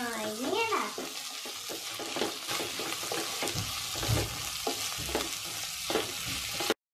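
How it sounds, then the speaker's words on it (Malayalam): Curry leaves hitting hot oil in a pan for a prawn roast, a busy crackling sizzle with repeated spatula scrapes and a brief voice at the start. "ഇനി ഇതിലേക്ക് നമുക്ക് കറിവേപ്പില ഇട്ട് കൊടുക്കാം."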